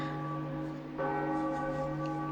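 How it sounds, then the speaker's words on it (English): A church-style bell rings out in The Legend of Zelda: The Wind Waker, its sustained tone swelling with a fresh strike about halfway through and ringing on steadily without voices. "let's ring the bell"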